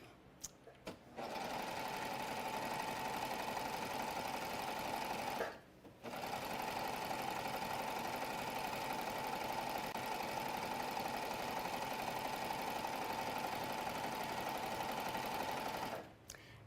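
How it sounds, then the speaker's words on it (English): A serger sewing sews a free-flowing chain stitch, a steady fast mechanical whir running close and loud in two long stretches with a short pause between them and brief starts at the edges. "I'm going to do a little bit of a free-flowing chain stitch"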